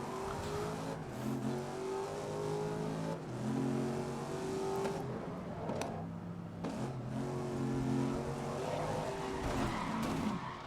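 A race car in the racing game GRID roars through gear changes with rising and falling engine revs, tires squealing and skidding on slippery curbs, loud and continuous.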